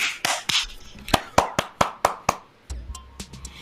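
Several people clap one after another, giving a string of sharp, separate hand claps in an uneven rhythm, close and fairly loud.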